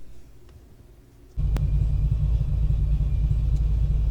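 A supercharged 700hp Corvette engine bursts into a loud, deep roar that stays sustained and heavy through a hard acceleration run, following a quiet stretch of low cabin rumble.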